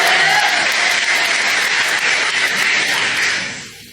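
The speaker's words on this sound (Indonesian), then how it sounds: "Jadi tepuk tangan dulu yang meriah buat kalian." Audience applause for a Christian crowd at a comedy or speaking event, a loud, dense wash of clapping that holds steady and then tapers off in the last half second.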